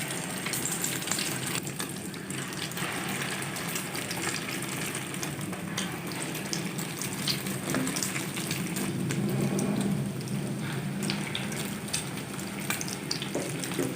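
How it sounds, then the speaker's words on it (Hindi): Shami kebabs coated in egg sizzle steadily in hot oil in a pan over low heat, a dense, even crackle and hiss that continues throughout without talking. "हल्की आंच पर फ्राई करेंगे।"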